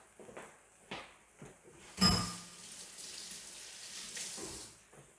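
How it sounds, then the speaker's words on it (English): Hands are rinsed under a running kitchen tap, with quiet, uneven splashes that surge into a louder gush of water midway and then trail off in softer trickles. "let me rinse my hands."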